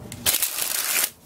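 Playing cards from a Virtuoso deck springing from one hand to the other, a loud, close burst of rapid fluttering card flicks lasting about a second.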